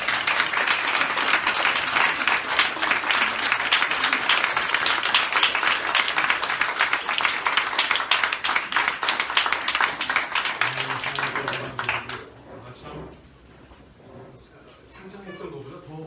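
A church congregation applauds loudly at a founding thanksgiving service as a pastor comes forward, with dense clapping lasting about twelve seconds before it cuts off and gives way to quieter room sound and a voice.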